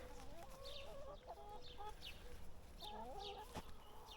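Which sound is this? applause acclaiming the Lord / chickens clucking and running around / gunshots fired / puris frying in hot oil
chickens clucking and running around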